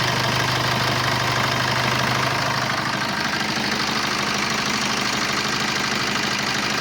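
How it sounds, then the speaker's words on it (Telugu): A 2018 Maruti Brezza ZDi+ diesel engine starts and settles into a steady idle, a continuous rumbling drone with knocking texture that stays loud and even, with no talking. "ఇంజిన్ అనేది ఆఫ్ చేశాను, మళ్ళీ స్టార్ట్ చేస్తున్నాను చూడండి."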